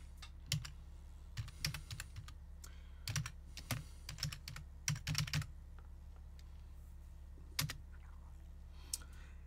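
Keys clatter on a computer keyboard as a command is typed into a terminal, with quiet clusters of clicks separated by short pauses and a steady low hum underneath, heard alone without speech.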